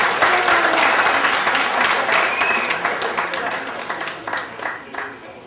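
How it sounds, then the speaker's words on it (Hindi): Sustained clapping from a crowd at a Pakistan Independence Day gathering in a camp in Jubail, Saudi Arabia, loud and continuous with scattered voices underneath, gradually thinning out near the end. "इनके लिए भरपूर तालियां मेरी दरख्वास्त है।"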